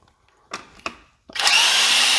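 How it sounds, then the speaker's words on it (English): A power drill removing the crank fan cover on a Briggs & Stratton Intek 22V engine on a Husqvarna mower: two short clicks, then a loud steady whir close by. "take the cover off of the crank fan"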